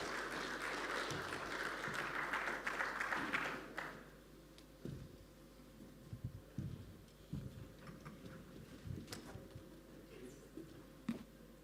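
A burst of crowd applause at a mining conference panel for about four seconds, then it breaks off into scattered soft taps and knocks in a quiet room.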